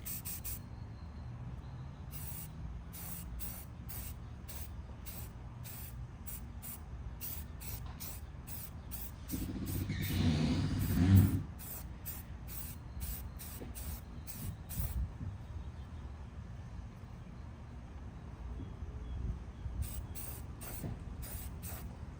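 A Rust-Oleum spray paint can hisses through a first coat, its spray coming in rapid short bursts with one longer, louder pass in the middle, close and alone against a faint steady background.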